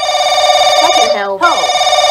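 A telephone rings in The Crooked Man video game. The electronic ring is loud, close and steady, with a brief warbling break partway through.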